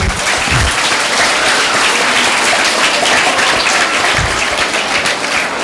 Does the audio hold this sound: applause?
yes